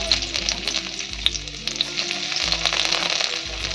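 Chopped garlic sizzles steadily in hot oil rendered from chicken skin fat, a continuous loud frying hiss with occasional pops and a low stirring rumble underneath.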